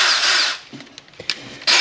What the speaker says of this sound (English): Left-handed drill that forces these out